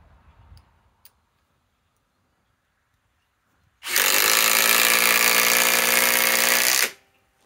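A SKIL Power Core 20 impact driver runs alone in one loud, steady burst of about three seconds, its rapid hammering impacts buzzing evenly after a near-silent stretch, then cutting off abruptly.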